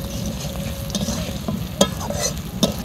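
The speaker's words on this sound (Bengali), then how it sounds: "দিয়ে আমি মশলার সঙ্গে একটু নাড়াচাড়া করে নিয়ে ভালোভাবে মিশিয়ে নেব।" Silver carp pieces and potatoes with spices are stirred in a sizzling pan, a steady fry hiss broken by several sharp scrapes and clinks of the spoon against the pan, close by and with no talking.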